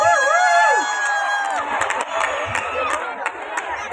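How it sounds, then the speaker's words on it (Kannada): Audience at a village contestant show's grand finale cheers and applauds for the contestants as music plays, with crowd noise and scattered claps throughout, a voice speaking over it. "ಬರ್ಲಿ ಜೋರ್ ಚಪ್ಪಾಳೆ ಫಾರ್ ನಮ್ಮ ಪವರ್ಫುಲ್ ಗರ್ಲ್ಸ್"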